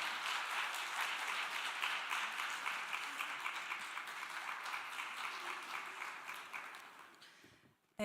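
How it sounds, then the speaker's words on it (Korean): Audience applause welcoming a lawyer to the podium at a church general assembly's sexual-violence prevention session; dense, steady clapping from a large hall that thins out and fades over the last second. "여러분 박수로 환영해 주시기 바랍니다"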